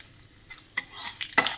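Cumin and chana dal splutter in hot oil for a South Indian tempering, giving a few sharp crackling pops against a quiet background with no talking.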